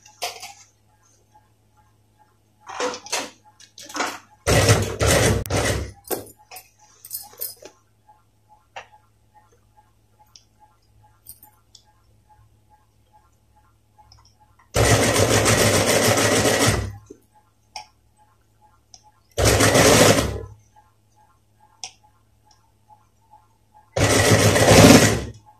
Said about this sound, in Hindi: ऐसे सीधा करने के बाद हम यहाँ पे सिलाई लगाएंगे।